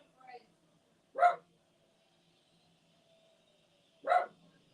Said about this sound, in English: Ignore the dog in the background.